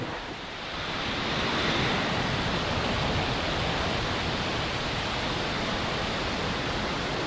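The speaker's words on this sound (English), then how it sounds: "Ignition and liftoff." A rocket engine ignites and lifts off in a continuous broadband roar that swells over the first second and then holds steady and loud, a dense rumbling rush with no voices.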